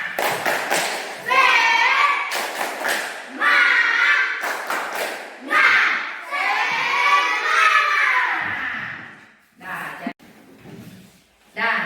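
Fifth-grade primary school pupils in a classroom perform the tepuk semangat chant, a loud group chorus of children's voices with bursts of sharp, rhythmic clapping, ending with a few scattered shouts.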